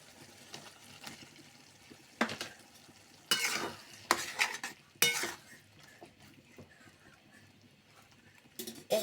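Masala with green chillies and tomatoes sautéing in a pan, a quiet sizzle under repeated sharp scrapes and clanks of a utensil stirring against the metal.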